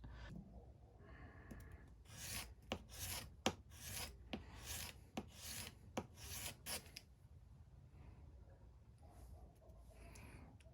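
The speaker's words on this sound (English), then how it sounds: "It's not getting hit on the sandpaper, so I'm just gonna put a little more pressure on that right hand side when I do this." A leather edge beveler is rubbed back and forth on sandpaper for sharpening, making about a dozen close, rhythmic rasping strokes in a burst, with quieter handling and faint breathing around it.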